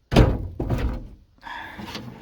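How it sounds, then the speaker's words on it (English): A very light Renault Encore car door, with no door card fitted, is shut twice in a junkyard, giving two loud close thunks, followed by a softer rattling clatter. "this is an incredibly light door"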